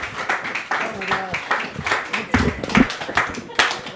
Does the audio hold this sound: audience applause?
yes